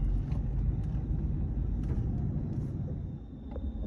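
A 2003 GMC Sierra 2500HD pickup with an 8.1 engine and 6-speed manual rumbles low and steady close by, easing off slightly as the clutch is let out and it starts to move away.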